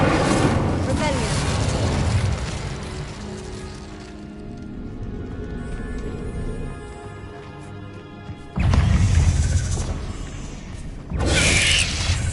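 Fiery spell blasts from Hogwarts Legacy boom and crash in quick succession, heavy rumbling explosions and bursts layered over game music, with a big loud impact late on.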